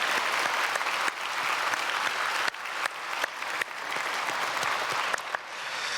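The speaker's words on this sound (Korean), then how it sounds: "박수하겠습니다." Church congregation applauding during a Sunday worship service, dense sustained clapping from a large crowd with a few sharp breaks, loud and steady for the whole stretch.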